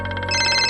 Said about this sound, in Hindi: સુરેશ ભાઈનો ફોન છે